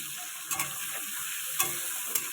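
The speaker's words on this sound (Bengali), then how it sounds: "এবার দিয়ে দেবো পেঁয়াজ আর পাকা টমেটো দিয়ে ভালো করে মিক্স করব" Onion and ripe tomato fry in hot oil with turmeric and salt, a constant near sizzle punctuated by three sharp spatula scrapes against the pan.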